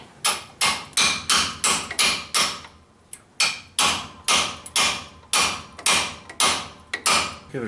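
A hammer repeatedly taps a socket onto a broken exhaust manifold bolt on a Dodge Hemi, about a dozen loud, close metallic strikes in a steady rhythm with one short pause partway through.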